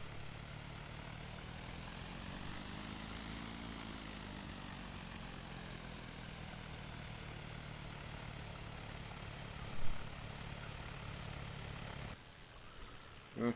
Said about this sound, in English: Okay, here goes my plane.